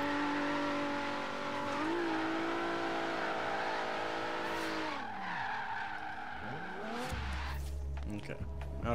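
An Infiniti G37 engine in Horizon 3 drones, then its pitch sags and drops away twice as it stalls, ending in a low sputter.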